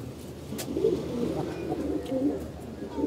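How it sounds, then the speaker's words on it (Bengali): A pigeon coos steadily and low in a backyard loft of army pigeons, the soft rolling calls carrying on without a break against faint ambient noise and distant chirps. "কবুতর আসলে এইভাবে কথা শোনাতে হয়"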